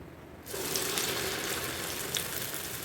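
Vada with onions drops into hot oil, setting off a sudden, steady loud sizzle and bubbling that carries on without pause, with no voices.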